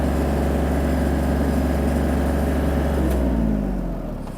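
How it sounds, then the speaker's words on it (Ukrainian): A Kubota GL-260 mini tractor's engine running steadily while the tractor creeps along at minimum speed, a loud close low-pitched diesel drone with even rhythmic pulsing that tapers off slightly at the end. "Мінімальна швидкість трактора."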